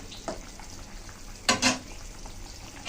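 A taro and puti fish curry simmering and frying in a pan, giving a continuous bubbling sizzle with a louder burst of stirring noise midway and another near the end.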